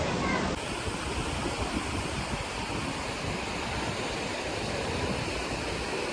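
Steady broadband rush of water flowing continuously outside the Nandikeshwar Shiva temple in the rain, a dense close wash like a stream or small waterfall, constant throughout with a brief tonal sound at the very start.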